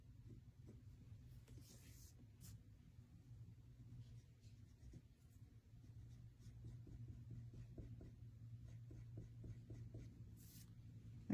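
Soft, faint scratching of a yellow pencil shading and blending on paper, in short repeated strokes over a low background hum.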